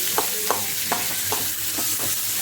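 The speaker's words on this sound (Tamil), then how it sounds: "நல்லா பச்சை வாடை போகிற வரைக்கும் நல்லா வதக்கிக்கோங்க" Tomato and onion sauté in a hot pan for a fish ball curry, a steady broadband sizzle with five or six soft scraping stirs at a regular pace, close and alone.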